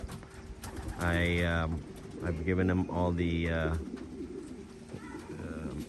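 Racing homing pigeons coo in a loft, where the paired birds give several loud, close, throaty coos in bursts. Someone speaks briefly over and between the calls.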